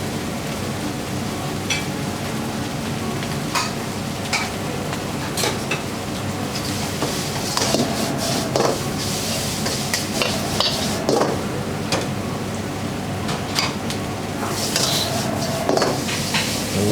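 Seafood glass noodles with spring greens stir-fried in a wok, a continuous close sizzle and rattle with scattered sharp clanks of the utensil against the pan, no talk.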